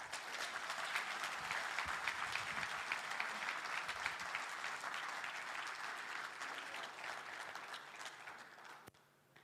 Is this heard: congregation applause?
yes